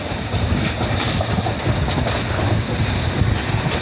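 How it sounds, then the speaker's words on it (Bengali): A passenger train running from Howrah to Ghatshila through Medinipur rolls along with a steady, loud rumble and rhythmic clickety-clack of wheels on rails, heard continuously without talking. "ট্রেন তার নির্দিষ্ট গতিতে ছাড়ছে"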